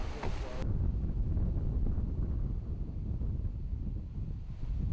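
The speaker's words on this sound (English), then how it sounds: "The wind is ripping right in his face" Strong wind roars and buffets the microphone on a disc golf course, a dense, continuous low rumble that stays loud throughout with no clear gaps.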